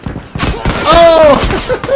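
Video game gunfire bursts out over a couple of seconds, a few sharp shots mixed with loud excited voices talking over the action.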